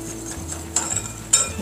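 Flour, sugar and a pinch of salt are mixed in a bowl, two or three soft scraping strokes of a utensil against the bowl, close and brief.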